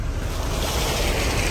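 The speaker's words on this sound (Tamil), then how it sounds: "என்னங்க வாட்டர் கிராசிங் எல்லாம் வருது?" Wheels churning through a water crossing on the forest track to Dudhsagar waterfall in Goa: a steady, loud rush of splashing water mixed with wind noise, continuous with no talk.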